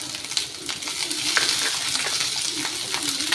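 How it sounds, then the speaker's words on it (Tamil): Garlic, a small onion and curry leaves fry in a pan with steady, close sizzling and crackling, plus occasional stirring scrapes. "பூண்டு இந்த அளவுக்கு ஃப்ரை பண்ணி எடுத்துக்கோங்க"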